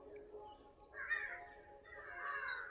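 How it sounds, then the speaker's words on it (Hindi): Crows cawing in a village in the morning, a few harsh calls rising over quiet background around old pakar and peepal trees, moderately near, with no talk over them. "सुबह सुबह कितनी सुंदर कौआ का आवाज़ आ रहा है।"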